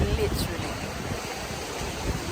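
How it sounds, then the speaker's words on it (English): Ocean surf rolls onto a Cape Cod beach in Massachusetts, a continuous broad wash of waves mixed with gusty wind on the microphone, with a voice faintly present. "We're at the beach. Haven't been to the beach in years."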